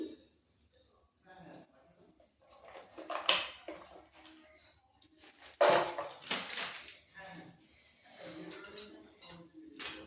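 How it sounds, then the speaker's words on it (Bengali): Gram flour batter seasoned with chili powder and salt is worked in a bowl for eggplant fritters, making intermittent clinks and scraping clatters against the bowl with quiet stretches between the bursts. "আমি ভালো করে বেসনটাকে মেখে নিয়েছি"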